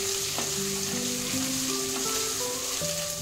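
Chopped garlic and grated ginger sauté in a pan for pasta, a steady bright sizzle throughout with soft stirring, and faint musical tones in the background.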